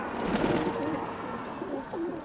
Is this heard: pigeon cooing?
yes